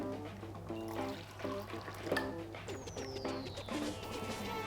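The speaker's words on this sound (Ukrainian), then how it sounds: "Беремо улюблене гарнятку, перемішуємо та наливаємо." Brewed coffee pours steadily into a cup, a gurgling trickle with rising tone, accompanied by soft clinks and a low background hum.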